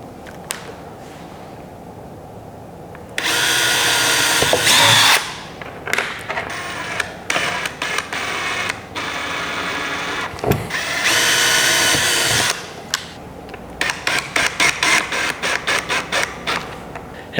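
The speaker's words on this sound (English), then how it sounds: "drill bit to drill those holes" Power drill boring holes in a kayak's bow to fit a motorization kit: two long, loud whining bursts, then a series of short stop-start trigger pulls, all close up with no talking.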